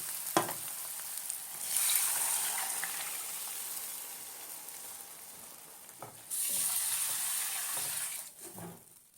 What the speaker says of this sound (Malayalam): നമുക്ക് ഇനി ഇതിലേക്ക് വെള്ളം ഒഴിച്ച് കൊടുക്കാം.